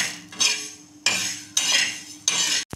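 Mustard seeds dry roast in a pan as a metal spoon scrapes and stirs them, giving four bursts of bright scraping and rattling with quieter gaps between them and no talk.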